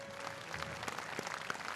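Applause from a seated audience at a national Armed Forces Day anniversary ceremony, honoring award recipients and decorated military units; a steady, moderately distant wash of clapping continues throughout without pause.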